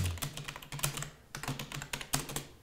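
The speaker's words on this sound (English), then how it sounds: "right here by just touch typing" Touch typing on a computer keyboard produces quick, irregular bursts of light clicking keystrokes, close by and fairly soft, with short pauses between runs and no voices.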